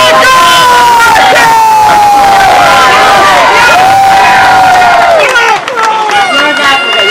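A large outdoor crowd at a parade of flags roars with cheers, whoops and shouts mixed with clapping, loud and sustained throughout before easing slightly near the end.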